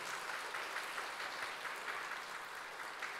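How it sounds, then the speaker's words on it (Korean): An audience claps together in encouragement during an afternoon church service, a dense, steady wash of applause sustained throughout without pause or speech. "다시 한번 여러분 격려 박수로 격려하도록 하겠습니다"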